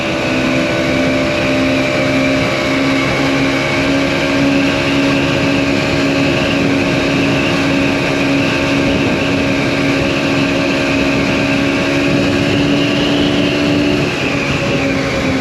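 Mondial SMX 125 motorcycle riding uphill in top gear, engine holding a steady drone with wind noise, loud and continuous without talk.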